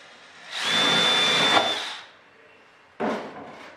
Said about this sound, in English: drill and cleco, top to bottom.